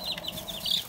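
Backyard chickens, young pullets, cluck in a short burst of close, bright, repeated calls.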